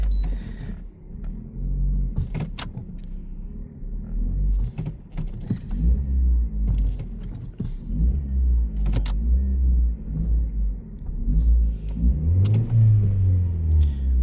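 Ford Focus engine revving, close and loud, a low rumble that rises and falls several times, with a stronger climb near the end and scattered clicks and knocks over it.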